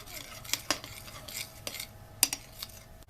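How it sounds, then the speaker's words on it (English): Bananas being mixed into donut batter in a bowl, with scattered clinks and scrapes of a utensil against the bowl, a few sharper knocks standing out in a quiet kitchen, no talking. "There, I mix together with the bananas."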